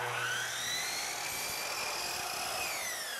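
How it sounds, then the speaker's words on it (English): A miter saw cuts polyurethane crown molding laid flat on the table with the miter set to 0 degrees, giving a loud, steady high-pitched whine that slowly winds down over a few seconds, with no voices. "We're going to lay the molding flat on the saw and make our cut."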